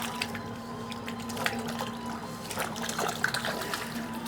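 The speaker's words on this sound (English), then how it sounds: "Let me wash my hands." Tap water trickles steadily in a home kitchen during handwashing, a soft continuous splashing that stays fairly faint and even over a low background hum, with no talking.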